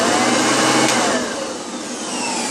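A 2001 Maytag U5131 upright vacuum cleaner with slightly dry bearings runs nearby with a loud, steady motor whine and broadband airflow roar that eases slightly partway through.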